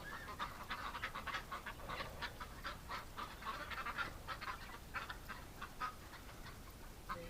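Muscovy ducks and other farm ducks call from a metal shed in winter, a steady, fairly faint stream of rapid honking and quacking voices overlapping without pause.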